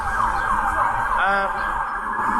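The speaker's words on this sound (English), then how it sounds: "they were really trying with some of those sirens" A wailing emergency vehicle siren sweeps up and down outside, steady and moderately loud, its pitch rising and falling through the short stretch.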